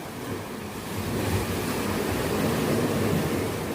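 Surf rolls steadily onto the shore at Impossible Beach, a hidden beach in South Bali, a continuous close wash of breaking waves with some wind noise and no voices.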